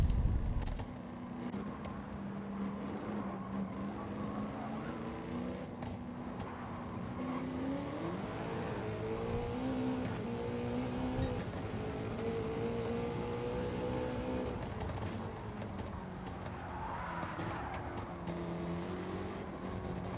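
Race cars in an online racing game, a steady engine drone with shifting pitch as several cars run together down a straightaway, continuous and fairly loud throughout.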